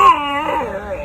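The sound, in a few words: boy imitating a tiger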